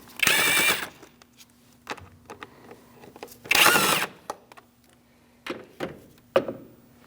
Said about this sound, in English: Using a T25 Torx, we're going to take out this bolt and this bolt.